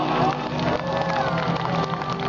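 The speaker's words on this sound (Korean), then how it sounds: "다시 한번 박수 보내주시기 바랍니다" A crowd at an outdoor election rally for presidential candidate Hong Joon-pyo claps and cheers, a dense, continuous wash of applause and voices held at steady loudness, with some shouting over it.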